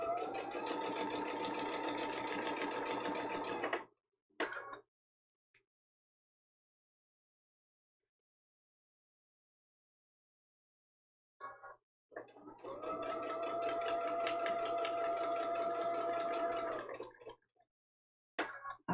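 Sewing machine stitching a foundation paper pieced quilt block, two close bursts of fast, even whirring several seconds long, separated by a stretch of near silence and short starts and stops.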